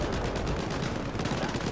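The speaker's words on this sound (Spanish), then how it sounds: "Joder, cuánta explosión" Dense, continuous gunfire and explosions on a battlefield in Battlefield 4 on the Golmud Railway map in assault mode, rattling bursts packed tightly together with a constant booming rumble throughout.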